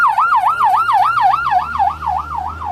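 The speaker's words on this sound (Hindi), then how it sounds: "मस्जिद अल अक्सा के बाहर ये एम्बुलेंस की गाड़ियां खड़ी हैं" Loud wailing ambulance siren outside Al-Aqsa Mosque in Jerusalem, rising and falling in a rapid, regular yelp over a low traffic rumble, close by and with no one talking.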